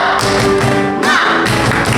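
Children clap a rhythmic spirit-clap chant during a Sunday school service, several loud percussive bursts in a patterned beat with music-like tonal sound running underneath.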